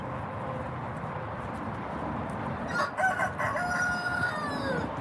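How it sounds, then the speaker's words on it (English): Chickens and a rooster in a backyard flock, with a dense bed of clucking throughout and a rooster's crow rising clearly near the middle, close and loud. "I hear you clucking and cock-a-doodle doing like crazy."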